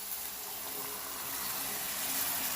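Warm water pours steadily into a bowl with a constant rushing splash and no voices.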